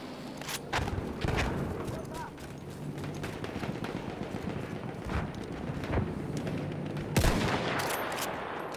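Gunfire in the Battlefield 1 video game, with repeated sharp shots and bursts scattered through an ongoing battle din, one especially loud blast near the end, while a player talks throughout.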